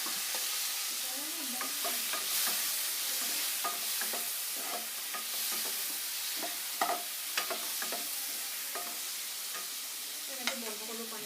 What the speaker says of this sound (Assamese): ইয়াতে এতিয়া কাটি থোৱা বিলাহীখিনি দি দিম